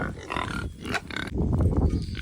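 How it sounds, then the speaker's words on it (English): Six-month-old pigs of about 200 pounds grunt in a farm pen, with low rough snorts and grunts running continuously at close range. "These are the pigs, about 200 plus pounds, 6 months old."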